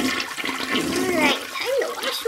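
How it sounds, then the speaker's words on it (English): A toy dollhouse toilet flushing, giving a loud electronic flush sound with gurgling, swirling water and bubbly rising tones, heard close and alone for about two seconds. "All right, time to flush."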